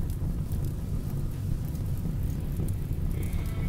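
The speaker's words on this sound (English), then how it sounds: "It's raining, at least." Steady rain falls in the RimWorld video game, a dense, even wash of broadband hiss with a low rumble underneath, constant throughout and without talk.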